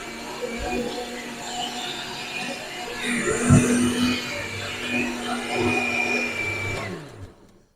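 An electric blender whirs steadily while blending sorrel BBQ sauce, its motor pitch shifting slightly as the contents churn, before spinning down and stopping at the end.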